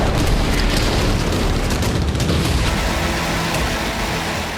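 Missile strike and bombing explosions over a city at night, Sana'a, Yemen, a dense continuous rumble of booms with low thuds, loud and steady throughout.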